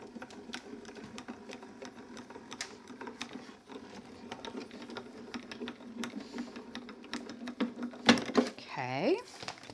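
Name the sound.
embossing a card in an embossing machine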